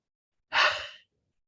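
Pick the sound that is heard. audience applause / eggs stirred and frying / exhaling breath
exhaling breath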